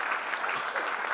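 An audience at a school lecture series breaks into a short burst of steady, even applause, fairly distant and filling the whole moment.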